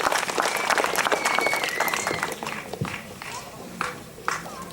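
An audience at a meeting claps to welcome a priest to the stage, a dense burst of applause that thins and fades into scattered claps, with voices heard alongside.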